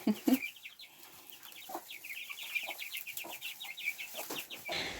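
Month-old young chickens, including cockerels, cluck and peep softly in a steady scatter of short calls, faint against light background noise.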